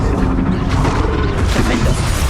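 The Bombarda blasting spell in the game Hogwarts Legacy goes off as a loud, dense burst of booming rumble and crashing debris, sustained for a couple of seconds with no talk over it.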